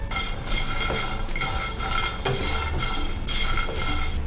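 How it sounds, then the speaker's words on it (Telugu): Peanuts and coriander seeds dry roasting in a pan rattle and scrape as a spoon stirs them, a busy, close clatter with rhythmic strokes against the metal. "పల్లీలు కొంచెం కలర్ మారిపోయి మంచి వాసన వచ్చే వరకు వేయించుకోవాలి. తర్వాత 1 టేబుల్ స్పూన్ ధనియాలు వేసుకోవాలి."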